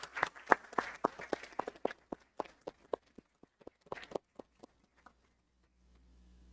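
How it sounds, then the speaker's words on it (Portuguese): Scattered hand claps from a small group, quick at first then thinning out into a few isolated claps before fading to quiet. "Uma salva de palmas"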